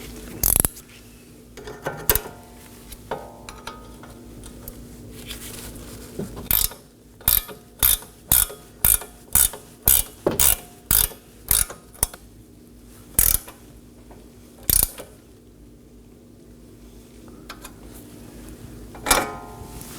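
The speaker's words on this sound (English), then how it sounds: "I'm going to secure the stud with a 8mm wrench while I tie in the other side with a 18mm wrench" Ratchet wrench working a nut on a CV axle stud of a 2018-2024 Chevrolet Equinox, a burst of about ten sharp evenly spaced ratcheting clicks in the middle, with scattered single clicks before and after, close and loud.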